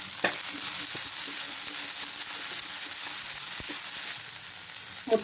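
Cut beans, carrot, peas and green chilies with ginger garlic paste sautéing in a pan, a steady close sizzle broken by a few scraping stirs and light knocks of the spoon.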